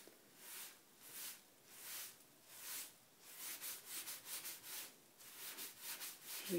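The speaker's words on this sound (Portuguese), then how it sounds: "Isso aqui não sai nem esfregando com a bucha" A sponge scrubs oxidized metal in steady back-and-forth strokes, a soft rhythmic rasping repeated about a dozen times, close and fairly quiet with no talk.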